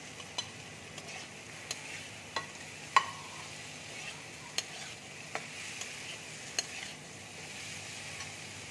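Small mourala fish going into hot oil in a pan with already-fried potatoes, giving a steady, quiet sizzle broken by a few sharp taps and clinks of a spatula against the pan.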